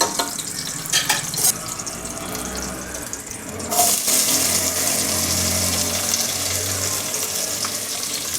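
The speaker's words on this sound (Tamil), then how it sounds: "அடுத்து இதில் வந்து நம்ம வெங்காயம் ஆட் பண்ண போகிறோம்" Onions and green chillies sautéing in oil for a mutton kulambu, producing a continuous close hiss and sizzle with scraping stirs, louder after a sharp burst partway through.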